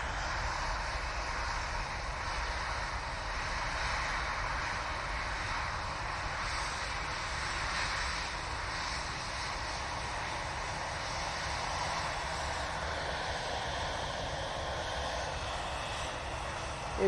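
A passenger airliner takes off at Manchester Airport, its jet engine roar a broad, steady rumble and hiss held for the whole stretch, fairly distant and unbroken by speech.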